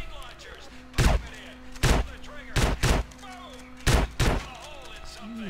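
Six sharp, booming shotgun blasts fire at uneven intervals in GTA: San Andreas during an Ammu-Nation shooting challenge, some in quick pairs, with a person talking quietly between shots.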